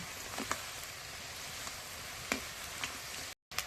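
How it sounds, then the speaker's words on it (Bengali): Thin tomato chips fry in hot oil with a continuous crackling sizzle and a few brief pops and taps, broken by a split second of silence near the end. "দেওয়ার সঙ্গে সঙ্গে কিরকম ভাজা হয়ে গেছে"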